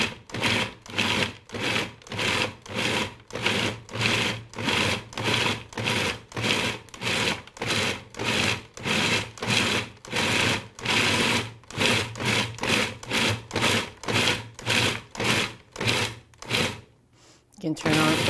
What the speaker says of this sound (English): It's best to pulse it. I'm just gonna keep pulsing it until it all becomes quite emulsified together there.